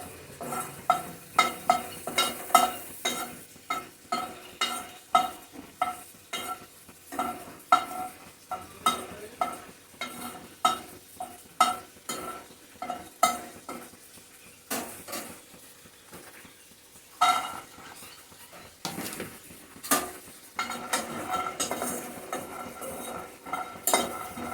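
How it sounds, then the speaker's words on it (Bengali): Whole cardamom pods being stirred and dry-roasted in a dry pan on the stove for a semai payesh recipe, with repeated scraping and clinking of the spoon against the metal and a light rattling under a faint sizzle, steady and close. "আগে আমি এলাচটা শুকনো খোলায় একটু নাড়িয়ে চাড়িয়ে নামিয়ে নিই।"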